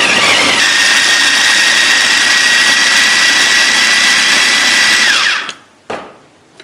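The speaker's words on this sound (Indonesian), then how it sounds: "Sekarang kita akan giling." An electric food chopper grinds spices for an Indonesian dish, a loud steady high-pitched motor whir running continuously for about five seconds before cutting off, followed by a brief restart.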